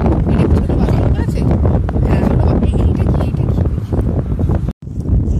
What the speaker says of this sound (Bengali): এত সুন্দর বাতাস, ভালো লাগছে।